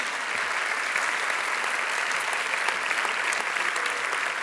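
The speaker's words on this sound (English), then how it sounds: "And now a round of applause." Steady audience applause fills a live award ceremony for press freedom, dense and continuous from start to end at an even level, with no voices rising above it.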